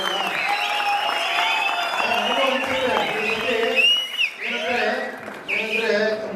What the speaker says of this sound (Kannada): ಚಪ್ಪಾಳೆ, ಕೇಕೆ